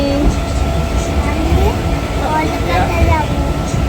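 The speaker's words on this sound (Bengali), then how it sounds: "ট্রেন ছেড়ে দিয়েছে, এই দেখো।" A passenger train rolling along on the way to Howrah, a steady loud rumble and rattle of the carriage throughout with faint squeals, heard from inside.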